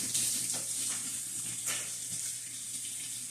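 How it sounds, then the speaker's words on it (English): Water runs steadily from a kitchen tap while hands are washed under it during fajita preparation, a continuous close hiss with light splashing and no talking. "Making sure you wash your hands a whole lot."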